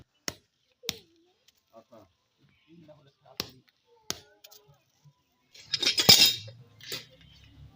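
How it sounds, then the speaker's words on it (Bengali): A grandfather crushes stones into gravel for a new tap pit in a yard, making sharp, separate knocks at irregular intervals. A louder, denser burst of clinking strikes comes near the end, with faint low sounds in between. "দাদু এই যে মানে এখানটায় পাথরগুলো কুচিয়ে নিচ্ছে"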